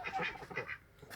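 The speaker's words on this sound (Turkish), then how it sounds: "3 tane pekin ördeğim var." Three Pekin ducks quack in quick, overlapping bursts, fairly close, then the calls thin out toward the end.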